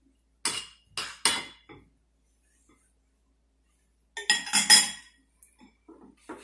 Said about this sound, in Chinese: 搅拌一下。